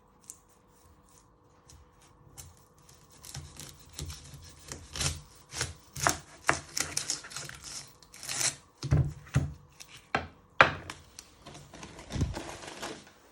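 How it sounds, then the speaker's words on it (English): An onion being chopped with a sharp knife on a board, a run of crisp, uneven cuts that quicken and grow louder partway through, with a few heavier thuds near the end. "Then you chop it down the middle."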